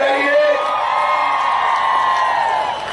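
A large crowd at an outdoor political rally in Darjeeling applauds and cheers steadily, with whoops and shouts over the loud sustained roar, while someone speaks through the public address.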